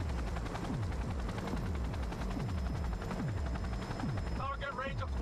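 A helicopter in the video game Cyberpunk 2077 thumps loudly with a steady rapid rotor beat throughout, and a voice comes in briefly near the end.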